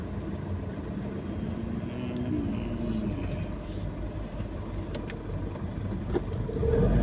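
Steady low rumble of congested December city traffic on Ayala Avenue, Makati, heard from inside a car, with engines idling and creeping along and faint higher noises from the street.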